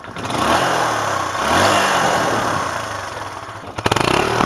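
A motorcycle engine revs loudly close by, its silencer exhaust roaring steadily with surging pitch before a sharp burst of blips near the end.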